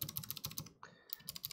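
Keys clack in rapid bursts as someone types hard on a Helix Lab Aaru mechanical keyboard, close and crisp, with a brief pause in the middle before the fast typing resumes.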